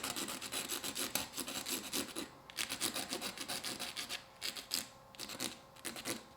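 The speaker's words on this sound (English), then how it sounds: "I'm going to get a palette knife because you can scrape through" Palette knife scraping through oil pastel on a painting, a close, steady series of rhythmic rasping strokes, repeated scratches with short pauses, no talk.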